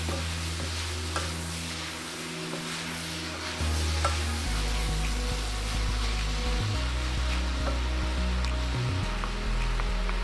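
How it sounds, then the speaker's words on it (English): Onions frying in a pan as the first step of making samosas, a steady close sizzle with low rumbling undertone and occasional stirring clicks, continuous throughout with no talking. "I'm still waiting for the onions to become a little bit more cooked"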